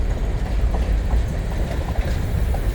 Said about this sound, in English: Where is this train going?